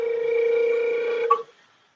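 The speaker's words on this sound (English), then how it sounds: "And a flutter tongue." A recorder note played with flutter tongue, a steady held pitch with a slight rapid ripple in loudness, ending in a short pitch blip as it stops; heard alone and fairly close.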